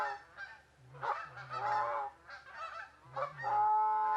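Several geese honking in bursts during a waterfowl hunt, loud and close, with calls overlapping in an uneven rhythm and short pauses between.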